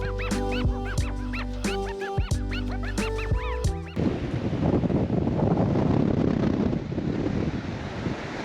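Strong wind buffets the microphone on an exposed clifftop on the Gaspé coast, a loud continuous roar and rumble that takes over after an opening stretch of bird-like honking and quacking.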